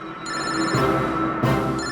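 A telephone rings in a crime-drama scene, sounding as repeated electronic ring bursts with short gaps, clear and fairly loud with no talking.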